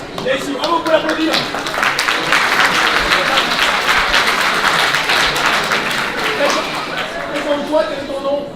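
Applause from a live audience at a university physics and chemistry science-and-magic show, dense steady clapping sustained throughout with voices mixed in.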